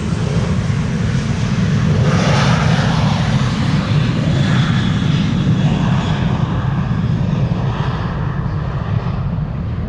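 A 24-year-old Boeing 737-800, registration PH-BXF, takes off at Amsterdam Schiphol Airport with a loud, steady jet roar that holds for the whole stretch, with no talking.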